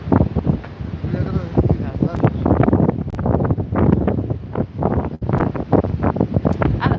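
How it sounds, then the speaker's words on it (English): Strong wind gusts buffeting the microphone by a seaside port in Benidorm, loud, rumbling and uneven throughout, with bursts of blustery roar and people talking underneath. "Around by the port, the wind's going mad again."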